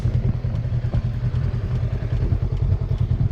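A 2018 Honda Rebel 500 motorcycle engine runs steadily nearby, a low, even rumble with faint mechanical clatter and no speech over it.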